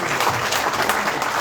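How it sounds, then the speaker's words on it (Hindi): Dense, steady applause from a crowd at a Valmiki Samaj celebration at BJP headquarters marking the anniversary of the abrogation of Article 370, close and continuous. "तालियों की गूंज धीमी क्यों है?"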